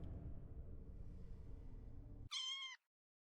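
A cat in the video game Alicemare gives one short, clear meow that cuts in after a steady low rumbling background, then everything drops to silence.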